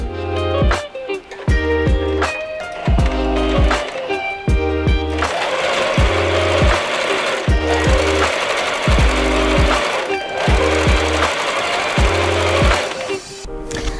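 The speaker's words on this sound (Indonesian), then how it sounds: "lalu kita lipat dan kita jahit kembali" Sewing machine stitching shantung fabric into a blouse sleeve, a loud rapid mechanical whir broken into repeated short bursts with brief pauses and clicks between runs.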